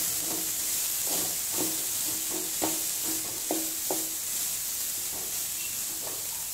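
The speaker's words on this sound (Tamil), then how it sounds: "இப்போது இந்த வெங்காயம் இதில் நல்லா இந்த எண்ணெயில் வதங்கணும்" Onions sautéing in oil for poori masala, a steady sizzling hiss with a series of soft rhythmic scraping stirs in the middle, no voices.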